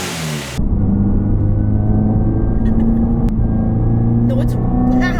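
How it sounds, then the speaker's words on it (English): Loud engine of a supercharged Subaru BRZ droning steadily with a high, thin supercharger whine layered over the rumble, sustained and close. "Plus the Supercharger whine, it sounds pretty good."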